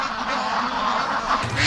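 Muscovy ducks call out in a brief burst of close, fairly loud quacking that swells slightly at the end, with no one speaking.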